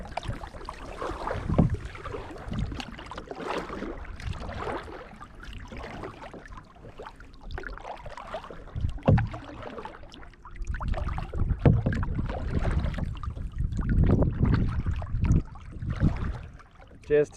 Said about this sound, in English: Just a nice and easy stroll in the kayak.